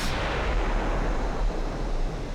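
Heavy naval gunfire from battleships in the WW2 game Ultimate Admiral: Dreadnoughts, a Nagato against a Queen Elizabeth: a deep, sustained rumbling boom that fills the whole clip with low, roaring thunder and no talk.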